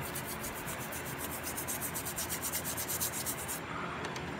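A GM Vortec throttle body's butterfly gets scrubbed clean with quick, close brushing strokes in a steady rapid rhythm that stops abruptly near the end.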